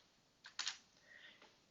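Enter key pressed on a computer keyboard, a few soft close clicks including one sharper double tap, faint against a quiet hiss.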